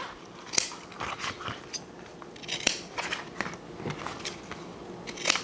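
Scissors snip the corners of fabric for a toiletry bag; a series of sharp, close crunchy cuts come at irregular intervals over a quiet background.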